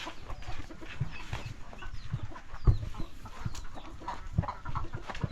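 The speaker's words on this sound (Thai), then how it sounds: "อ้าวไก่อิ่มแล้วอันนี้นะ" Chickens in a rural Lao village yard cluck and chatter continuously at close to moderate distance, with scattered sharper calls over a busy outdoor background and no talking.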